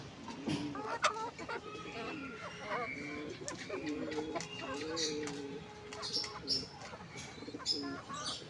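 Chickens cluck and coo nearby in soft, repeated calls, partly mixed with low human talk throughout.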